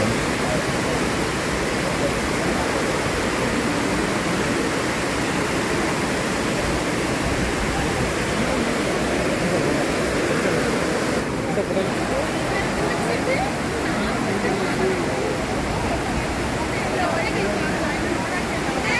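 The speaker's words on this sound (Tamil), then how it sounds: "மெயின் ஃபால்ஸ்லேயும் வந்து தண்ணி வந்து நிறைய கொட்டுது பாருங்க" The main falls at Courtallam waterfall send water pouring down in a loud, dense, unbroken roar that stays steady and close throughout.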